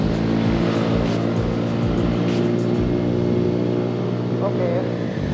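A two-stroke motorcycle engine drones nearby during a night ride on a Vespa Sprint, a steady buzzing mechanical hum mixed with wind rush, loud and continuous.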